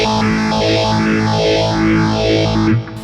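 Electric guitar through a Boss Katana amp's phaser effect with a step rate setting, a loud sustained distorted tone with a sweeping rise-and-fall filter pattern that cuts off near the end.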